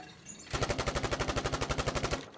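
Submachine gun fire on the practice range in Battlefield V on Xbox One: a single rapid, loud, evenly spaced automatic burst lasting about two seconds after a brief quiet start.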